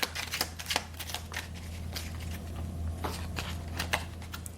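Tarot cards being shuffled and drawn from the deck, a steady run of soft papery riffles and flicks close by, with a low constant hum beneath and no talking.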